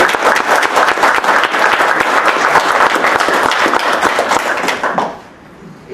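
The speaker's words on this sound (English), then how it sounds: "let's give a round of applause for Donald Joseph, who's the founder of the feast here." Audience applause for Donald Joseph, founder of the event, at a law school CLE presentation: dense, steady clapping from a roomful of people for about five seconds, then fading quickly into near silence.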